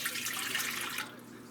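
Warm water, about 110 degrees, is poured into a bowl for whole wheat hoagie roll dough: a steady, close splashing stream for about a second that then tapers off into quieter trickling.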